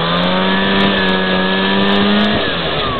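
A snowcat engine held at full throttle, a loud, close, sustained roar with a steady droning tone that dips slightly near the end.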